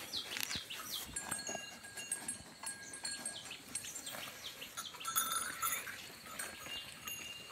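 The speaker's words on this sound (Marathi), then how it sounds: "ते बकरी आहे बघा" Goats and cattle grazing together in a forest, with a white goat among them; faint, scattered bleats and small animal sounds over a steady outdoor bed of birds and light clinking, no clear speech.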